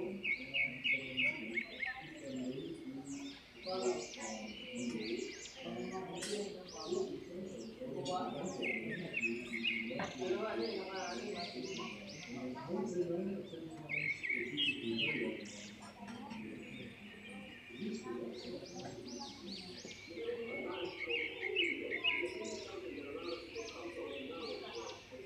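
Repeated chirping calls from a bird that has not been identified, near its nest and settling onto it, come at a moderate level alongside steady background sounds.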